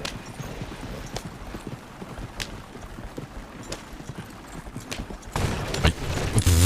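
Horse hooves clip-clop in a quick, fairly regular rhythm of sharp distinct knocks, nearby and moving fast, ending with a louder burst of rustling noise.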